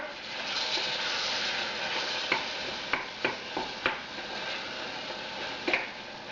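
Tomatoes sizzle steadily in a pan on a stovetop while being cooked down into a gravy for moong dal, with a few sharp spoon-against-pan scrapes and knocks from stirring over the constant frying hiss.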